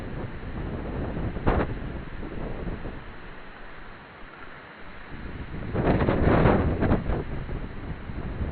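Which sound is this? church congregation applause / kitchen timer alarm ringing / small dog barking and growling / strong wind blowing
strong wind blowing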